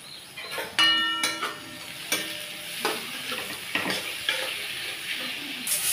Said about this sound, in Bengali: এবার আমি এর মধ্যে এই রসুন কুচিটাও দিয়ে দেব, এই আদা কুচিটাও দিয়ে দেব, দিয়ে একটু ভালো করে নাড়াচাড়া করব।